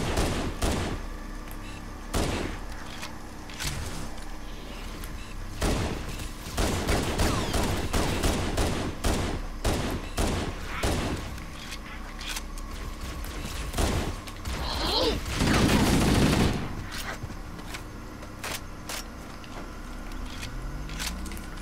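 Gunfire in Halo Anniversary, with rapid bursts of automatic fire and single sharp shots spread throughout, loud and close, mixed with mechanical clanks and a heavy blast near the end.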